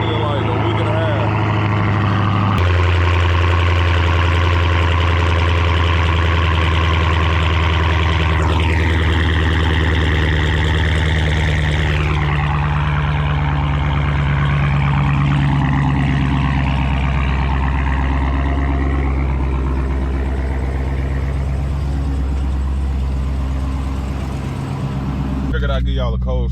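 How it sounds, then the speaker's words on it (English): A Dodge Hellcat's engine rumbles loud and close after a cold start, holding a deep, steady idle that wavers and shifts in pitch as it warms up. "Y'all heard the cold start. The cold starts be crazy on the cat."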